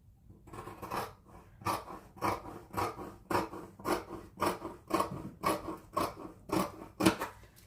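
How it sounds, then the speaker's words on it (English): Scissors cut through fabric for baggy sewn pants in a steady rhythm of about a dozen close crisp snips, each blade closing with a dry rasping crunch, with no talking. "Connect that up, then I'll cut that bit up."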